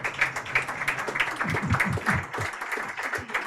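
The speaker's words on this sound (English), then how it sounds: "a better round of applause" A formal signing ceremony audience gives a round of applause, with steady rhythmic clapping at moderate distance that stays fairly quiet, punctuated by a few louder claps in the middle.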